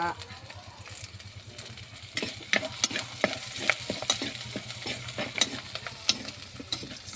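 Dried red chillies and curry leaves fry in hot oil for a hamour fish curry: a low sizzle that turns into dense, irregular crackling and spattering pops partway through.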